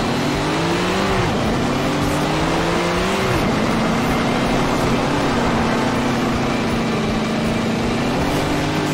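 A race car engine in Tony Stewart's All American Racing 2 drones loud and steady, its whining pitch dipping and rising with gear shifts before settling into a sustained high hum, with no talking.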